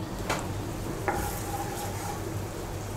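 Matar dal lentil dumplings (bori) fry in hot oil with a steady close sizzle, and a couple of sharp clicks from a utensil ring out near the start.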